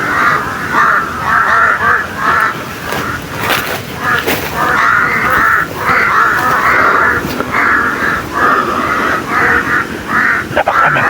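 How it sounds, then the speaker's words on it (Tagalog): A large flock of crows caws loudly and continuously, many harsh overlapping calls in rapid, irregular bursts close by. "Napakaraming uwak tol."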